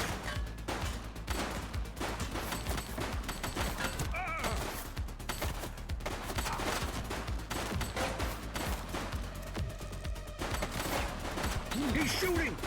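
A suspect firing a handgun in the video game The Precinct, rapid gunshots scattered throughout a busy, noisy action scene with voices and game chatter underneath.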